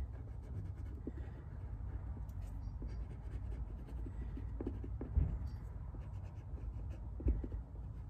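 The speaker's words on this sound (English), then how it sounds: "I'm going to write it with my UV resistant marker as well on the back here" A UV-resistant marker scratches and squeaks across a plant label in short strokes, faint and close, with a soft low hum underneath and no talking.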